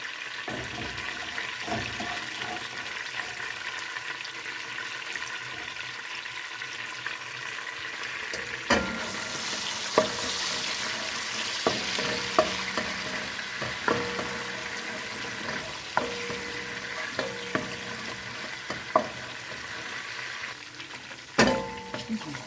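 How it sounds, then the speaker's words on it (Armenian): Butter and green sauce sizzle steadily as they fry in a pot, with a spoon stirring and scraping through it and occasional clinks against the metal, a continuous close frying hiss throughout. "ես արդեն կարագը լցրել եմ կաթսայի մեջ, հիմա կանաչ սոս եմ ավելացնում"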